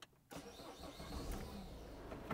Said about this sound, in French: Je vais allumer le moteur et bien entendu démarrer la clim.